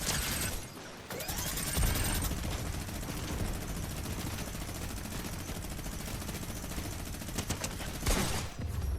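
Minigun fire in a video game, a continuous loud roar of rapid gunfire sustained for several seconds after a brief pause, ending with a short burst.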